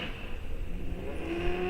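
Drag racing cars at Rock Falls Raceway during a bracket series final, a loud engine drone with a rising revving tone near the end, heard briefly on its own.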